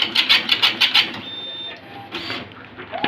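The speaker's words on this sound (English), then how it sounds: "This is the printer self-test." Olivetti PR2 Plus dot matrix passbook printer running its self-test, giving six rapid bursts of buzzy print-head chatter in a steady rhythm, then quieter mechanical whirring and a brief carriage movement, close and clear.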